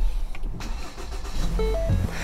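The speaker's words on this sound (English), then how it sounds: "You start up the engine" A car engine starts up and settles into a low, steady idle, heard during intake valve cleaning with spray cleaner.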